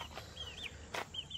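Chickens on a working farm, including a rooster, give short clucks and rising calls in a few spaced bursts at moderate distance over steady outdoor background noise, with no one talking.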